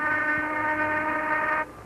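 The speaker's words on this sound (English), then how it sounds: "There goes the noon whistle." Railway shop noon whistle sounding on the Great Northern Railway, one steady sustained blast, loud and close, holding evenly for over a second before cutting off abruptly.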